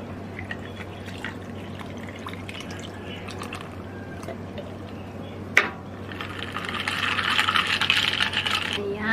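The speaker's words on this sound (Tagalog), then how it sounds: "At meron isang basong punong-puno ng ice. Ayan. Ayan. Isalin ko lang ang pineapple." Pineapple juice is poured into a glass packed with ice. Light clicks and drips come first, then a bright sustained gush of liquid over ice fills the second half, close and fairly loud.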